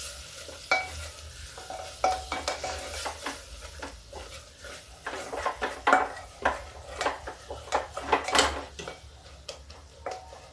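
A tomato and sweet corn curry is stirred and sautéed in a pan, its soft sizzle overlaid by frequent close scrapes and clinks of a spoon against metal in an irregular, busy rhythm, with no one speaking.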